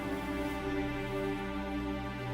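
Hollywood Strings orchestral sample library sustaining lush chords, a smooth continuous string pad with steady harmonic layers, soft and even throughout with no voices.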